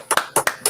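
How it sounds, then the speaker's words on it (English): A few sharp hand claps or snaps in quick pairs, close and loud, forming a brief, sparse burst of applause from a small group on a talk show. "give yourself a round of applause"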